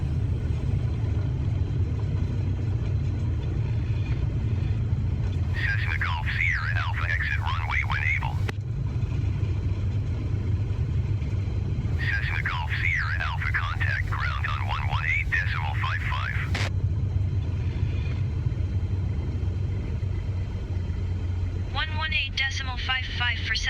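An airliner in Flight Simulator 2020 taxis after landing, its engines giving a constant low rumble and whine throughout, while chirpy warbling cockpit tones come and go in bursts.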